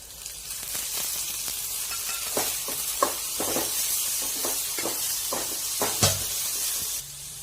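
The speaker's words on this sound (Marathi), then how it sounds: "कांदा कांदा थोडासा भाजून घ्यायचा आहे" Onion sizzles steadily in hot oil in a pan for a Marathi green chickpea bhaji, with a constant close frying hiss broken by several sharp clicks and scrapes of stirring.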